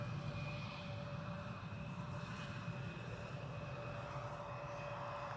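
A Finnair Airbus A350 airliner arrives at Schiphol airport, its engines a steady distant roar with a faint tonal whine, continuous and unchanging, with no talk.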